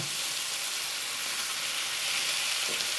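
Chicken for a jackfruit biryani being stirred in a pan, a steady broadband sizzle with a faint scrape of the spoon near the end.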